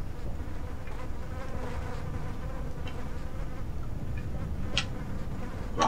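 Flies buzzing in the PS2 survival horror game Cold Fear, a continuous droning insect hum with small clicks and blips of game sound over it, no voices.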